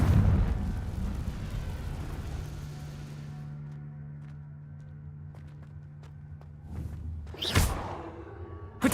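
A Confringo fire spell in Hogwarts Legacy goes off with a rumbling burst at the start that fades out, followed by scattered footsteps and a sharp whooshing blast near the end.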